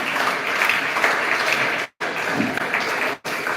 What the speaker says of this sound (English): Students, please, loud round of applause for your seniors, please.